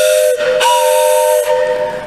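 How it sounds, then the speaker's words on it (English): A loud, shrill train whistle sounds in several sustained blasts during a church worship service, its bright, steady tone briefly cutting out and starting again, with no talking. "I love to use this train whistle."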